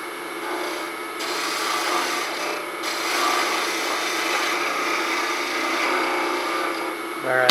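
A slightly dull turning tool cuts a wooden pen blank spinning on a lathe, making a close, continuous dry rasping scrape that holds steady throughout.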